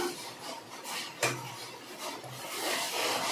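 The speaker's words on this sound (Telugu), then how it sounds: "ఒక బ్రష్ పెట్టి కలిపినామంటే మనకు గడ్డలు లేకుండా నీట్గా వస్తుంది." A brush stirs henna paste in an iron pan, giving close, gritty scraping and rubbing strokes, one sharper knock partway through and brisker scraping toward the end, with no talking.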